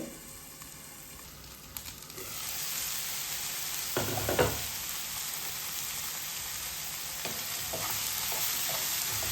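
Tomatoes fry under a lid in a covered pan, giving a steady, close sizzle with a few louder clatters and pops near the middle.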